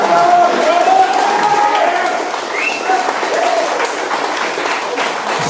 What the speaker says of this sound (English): Give them a big round of applause, guys.